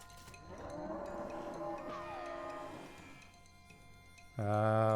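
Ghost cow heads in the West of Loathing video game let out a drawn-out moaning moo, then a louder, sharp bellow bursts in near the end.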